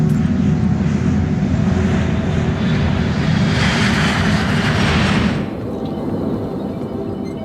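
Airliner engines in flight on Alaska Airlines Flight 261 off the Los Angeles coast, a loud steady low roar with a rushing swell that cuts off abruptly, leaving a quieter hum.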